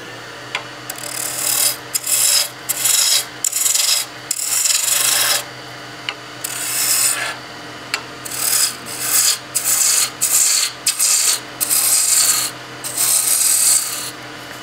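Spindle roughing gouge cutting a cigar case blank on a wood lathe turning at about 2,500 RPM, heard as repeated loud, close bursts of hissing, rasping cuts separated by brief gaps, with no talking.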